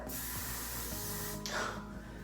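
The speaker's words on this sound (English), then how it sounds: "we've got one more on getting to like spray it before I curl it" A continuous aerosol hiss of hair spray sprayed on hair before curling, close and steady, shifting briefly in tone near the end before easing off.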